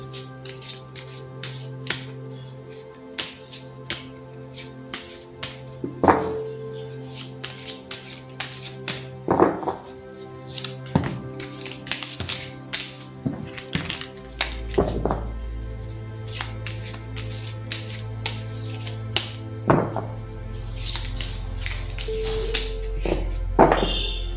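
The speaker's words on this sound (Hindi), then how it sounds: "पहले ज़रा मैं कार्ड्स को शफल कर लेती हूँ" Tarot cards being shuffled by hand, giving a run of soft, rapid taps and riffles close by, with gentle music playing underneath.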